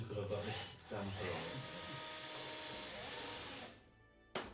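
Power drill bores into a fuel tank on a recreated WWI Bristol Scout fighter plane, a steady loud whine lasting several seconds before stopping, with a brief burst at the end.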